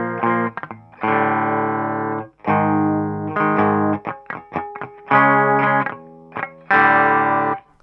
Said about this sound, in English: I've done the up pick here with a kind of muted sound because you're not really holding the chord down anymore